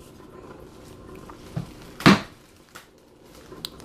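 A used espresso puck from a Breville Barista Express is knocked out into a knock box with one sharp, loud thud, surrounded by a few fainter clinks and knocks in a quiet kitchen.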